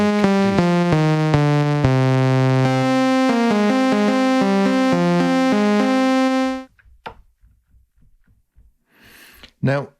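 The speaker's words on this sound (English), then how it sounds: "let's click on just on the plus sign here and choose just a basic oscillator as an engine." Basic oscillator engine in the Imaginando BAM Beat Maker app playing a rapid sequence of steady electronic synth tones for several seconds, loud and clean, then stopping abruptly before a brief spoken voice.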